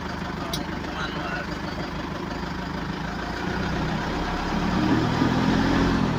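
A converted Isuzu 4JJ1 dual-cam twin-turbo diesel engine, switched from electronic to manual, runs on a road test, a steady low rumble heard from inside the vehicle that grows slightly louder toward the end.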